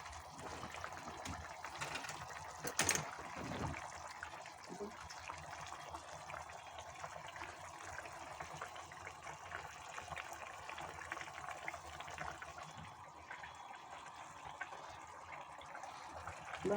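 Pabda fish curry simmers in a pan with a soft, steady bubbling under a faint domestic background, one brief knock early on; a voice talks quietly at times.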